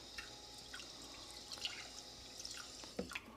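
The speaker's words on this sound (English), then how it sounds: "Just gonna rinse this a couple times." Plain white rice being rinsed in water, with faint close drips, small splashes and trickles over a quiet steady background, and a slightly louder slosh near the end.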